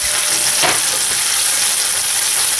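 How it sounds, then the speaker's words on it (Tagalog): Tomato sauce hitting a hot frying pan while cooking chicken morcon, a loud, constant hiss of sizzling with a brief stirring scrape, close and steady throughout. "ilagay na natin yung tomato sauce"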